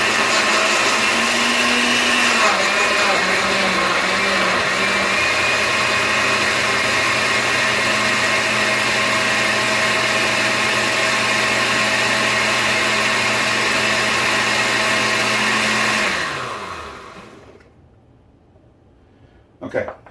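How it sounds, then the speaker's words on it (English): A blender purées roasted Roma tomatoes with a loud, steady motor whir that holds for about sixteen seconds, then winds down and stops, followed by a short clatter. "we're going to blend the tomatoes until they're smooth"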